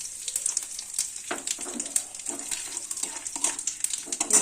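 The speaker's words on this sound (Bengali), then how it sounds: "তেল দিয়ে এর মধ্যে তেজপাতা ফোড়ন, দারচিনি ফোড়ন, জিরে ফোড়ন আর একটু হিং ফোড়ন" Bay leaf, cinnamon, cumin and asafoetida tempered in hot oil for a vegetarian banana-flower dish, giving a steady close sizzle with soft stirring scrapes and small crackles throughout, no talking.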